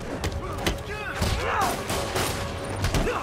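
Explosions and rapid gunfire in Marvel's Spider-Man video game, a flurry of close bursts, thuds and crashes with whooshing effects, under someone talking over the action.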